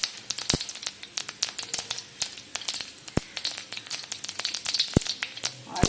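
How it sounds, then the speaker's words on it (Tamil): Mustard seeds and urad dal sizzle in hot oil for a brinjal dish, with sharp, irregular pops and crackles scattered over a soft frying hiss, close by and with no talking. "இப்போ வானல் வச்சுட்டு எண்ணெய் காஞ்சோடனே கடுகு உளுத்தம்பருப்பு போட்டேங்க"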